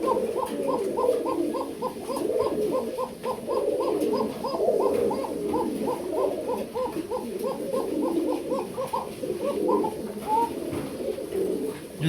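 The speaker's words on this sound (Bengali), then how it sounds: "দেখেন ভাই এত সুন্দর একটা কবুতর" Racer pigeons coo in a steady, repeated rhythm close by, the soft throaty calls layered over a continuous flock murmur with no speech.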